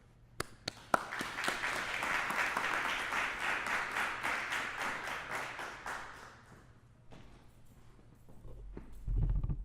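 Audience applause in a gallery talk space, a dense burst of clapping that starts with a few sharp claps, swells and holds steady for several seconds, then thins out and fades to scattered claps with low rumble at the end.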